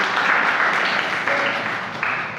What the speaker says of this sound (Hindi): सबसे पहले जोरदार तालियों से